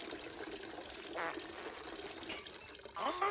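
Water pours out of a creature's head in a film scene, a soft trickling splash rising over a murky ambient background, with a louder gush of liquid near the end.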